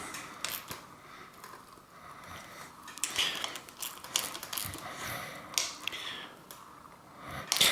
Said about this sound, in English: And get the wrench. Tighten these on.